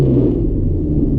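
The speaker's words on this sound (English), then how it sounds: "Let's give it a little rev." A car engine idles with a deep, loud, close rumble that swells slightly in a brief rev.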